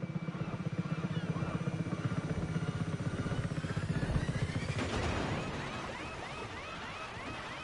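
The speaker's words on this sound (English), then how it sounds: "Where's my chopper? Oh, here's it coming." A helicopter in the video game Just Cause 3 arrives with a steady, loud rotor-and-engine drone that swells, then eases off as other game effects break in over it.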